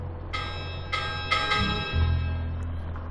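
A bell rung in The 7th Guest VR video game, three clear metallic strikes in quick succession, each ringing out and fading over a low room hum.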